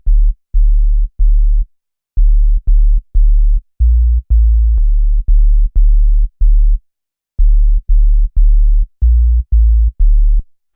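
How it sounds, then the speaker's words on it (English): A murky sine-wave synth bass line from Logic Pro plays alone, a string of deep, round, pure low notes in a bouncy rhythm with short gaps between phrases, loud and clean. "Classic sine wave murky bass line."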